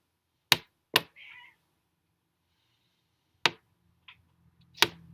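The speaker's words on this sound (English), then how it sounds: "Cats want to just battle royale over here." Domestic cats scuffle indoors in sharp bursts: a few loud thumps and yowls separated by silence, with brief meows and faint rustling between them.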